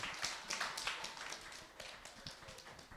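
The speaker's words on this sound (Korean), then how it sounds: "박수" Students in a high school church youth service clap for the teachers seated at the back, a brisk scattered round of hand claps from a small group, fairly close and steady for a few seconds without talk.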